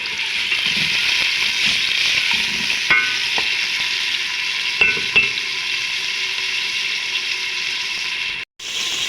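Beef pieces and onions fry in olive oil in a pan for Tunisian couscous, a steady close sizzle broken by occasional stirring scrapes and clinks, cutting out briefly near the end.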